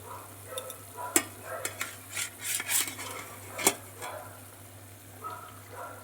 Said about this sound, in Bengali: এবার মাছগুলোকে এক এক করে দিয়ে দেবো ঝোলের মধ্যে